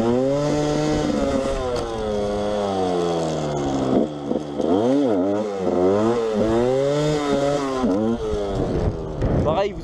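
A 125 DTR two-stroke enduro motorcycle, built from a YZ, revs hard and close, its sharp buzzing pitch repeatedly climbing and dropping through several throttle blips, with a voice briefly audible over it.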